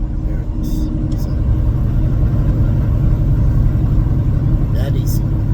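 A Peterbilt 389 semi truck's diesel engine rumbles steadily up close from inside the cab while its 18-speed gearbox is shifted, with someone talking over the drone.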